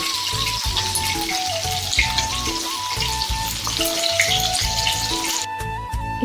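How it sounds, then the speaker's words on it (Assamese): Fish pieces deep-fry in oil with a continuous bright sizzling hiss and scattered pops, close and fairly loud, ending with a faint clink. "ইফালে মাছখিনিও ফ্ৰাই কৰি লৈছোঁ"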